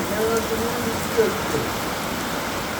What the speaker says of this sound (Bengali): কি বড় বড় বৃষ্টির ফোটা